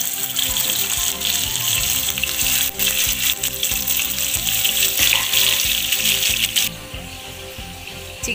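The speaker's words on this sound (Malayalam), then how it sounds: "ചൂടായ ഓയിലിലേക്ക് ഇനി നമുക്ക് ഓരോ പീസ് ചിക്കൻ വെച്ച് കൊടുക്കാം." Raw chicken pieces laid one by one into hot oil in a pan for a chicken bread sandwich, giving a steady, loud hissing sizzle that runs the whole time with no voices.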